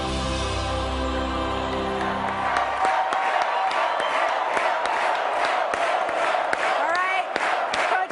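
A game-show audience cheers and whoops for a contestant, Coach Mo, a loud sustained roar of crowd noise with shouts and a few claps rising after a low rumble fades out.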